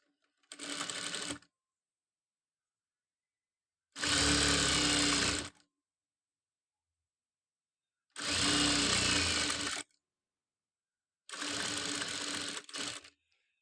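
A sewing machine stitches a school uniform top placket in four separate runs, each a steady, loud, close mechanical whir lasting one to two seconds, split by stretches of silence.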